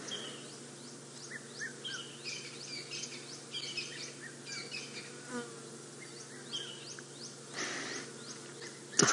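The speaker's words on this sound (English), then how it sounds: "Wonderful to sit and listen to all these birds around us." Many birds, including a puffback, chirp and call in quick, repeated bursts in the African bush, layered over a steady buzz of flies and insects close by.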